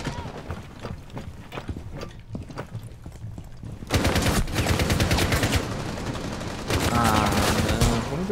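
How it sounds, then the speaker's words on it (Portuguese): Bursts of rapid gunfire in Rainbow Six Siege, loud and dense in the second half, with quieter game sounds and faint voices before. "perdi nesse tiroteio, velho"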